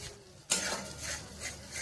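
An onion, ginger, garlic and green chilli paste drops into hot oil for a katla fish malaikari, bursting into a sudden loud sizzle midway and then frying steadily with scraping stirs, no voices.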